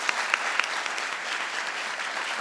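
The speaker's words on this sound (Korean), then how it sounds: "뜨거운 박수로 마무리해 주시면 감사하겠습니다" Warm audience applause closing a tourism forum session in Seoul, a dense steady patter of many hands clapping, close and even throughout.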